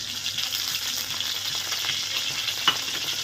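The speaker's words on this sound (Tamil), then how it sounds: "ஆயில் நல்லா காஞ்சிருச்சு இப்போ வெங்காயத்தை சேர்த்துக்கலாம் வெங்காயத்தையும் கருவேப்பிலையும் ஒன்றாவே சேர்த்துருக்கோம்" Onion and curry leaves frying in hot oil make a steady, close hiss and sizzle with soft crackles, and a single brief clink near the end.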